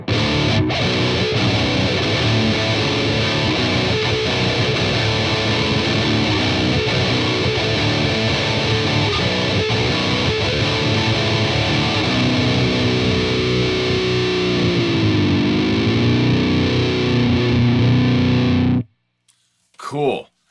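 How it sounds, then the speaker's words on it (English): Loud electric guitar riffs and chords through a Deadbeat Sound Visible Overdrive pedal into an amp, gritty and sustained, with a bent note near the end before the playing cuts off. "it's overdriving the sound a little bit harder than what my amp is doing"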